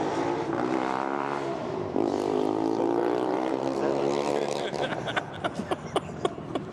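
Formula Student race car without its silencer, its loud buzzing engine shifting pitch as it revs, then fading under talk near the end.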